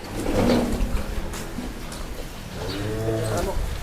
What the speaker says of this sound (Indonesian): Si sapi Madura.